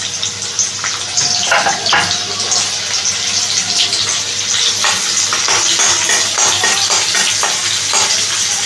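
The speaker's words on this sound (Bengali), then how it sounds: "আমি এখানে পেঁয়াজ কুচিটা দিয়ে দিলাম" Chopped onion sizzles in white cooking oil for homemade egg pasta, a loud steady fry with crackling bursts and occasional stirring scrapes throughout.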